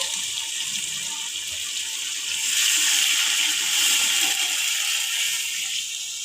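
Water pours steadily into a pot of rice for bagara rice for several seconds, a continuous close splashing hiss that swells slightly midway.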